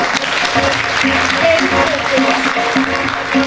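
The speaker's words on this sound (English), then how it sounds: "Keep clapping" An audience claps for a student being honoured at a school merit-recognition day, loud sustained applause filling the hall, with a tonal musical or voice-like hum running underneath.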